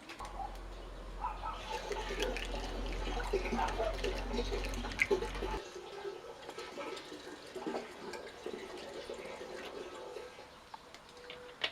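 A prepared solution is poured into a wooden oak barrel already partly filled with cold water, a steady gurgling splash that runs for about half the time, then stops, leaving faint birdsong and room ambience.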